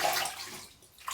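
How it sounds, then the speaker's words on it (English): Water splashes briefly while rinsing during a shave, a short close wash that fades and then picks up again at the end. "Let's rinse."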